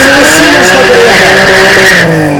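A BMW M3 squeals its tires loudly and continuously through a drift run at a motorsport event, the sustained screech mixed with engine roar close to the listener.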